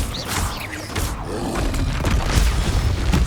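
A Confringo fire spell blast detonates in the video game Hogwarts Legacy, a loud, rumbling booming explosion with creaking, mechanical crashes running continuously throughout.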